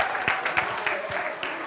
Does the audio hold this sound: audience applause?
yes